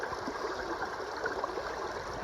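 Creek water flows in a soft, continuous rush and gurgle, faint and steady, with no voices over it.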